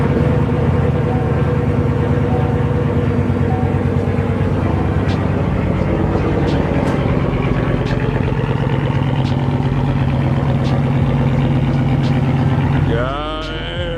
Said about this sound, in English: there we got a cold start.